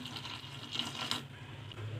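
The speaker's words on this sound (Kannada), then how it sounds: "ನೀರು ಹಾಕ್ತಾಯಿದ್ದೀನಿ 1 ಗ್ಲಾಸು" A glass of water pours into wheat flour batter with a faint, continuous trickling splash, close and quiet, with no voices.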